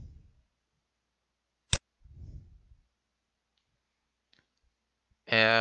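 A single sharp computer mouse click stands alone and near in a quiet room, with brief faint breathy bits around it and a short burst of other sound at the very end.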